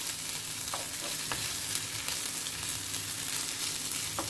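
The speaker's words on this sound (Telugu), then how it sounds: "వేసుకొని జింజర్ గార్లిక్ పేస్ట్ని కూడా ఒక 1/2 మినిట్ ఫ్రై చేద్దాము." Ginger garlic paste fries in a pan with a continuous, even sizzle and a few faint stirring scrapes, with no talk over it.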